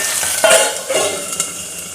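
Green chillies roast in a pan with a little oil, giving a steady close sizzle with brief stirring scrapes and crackles.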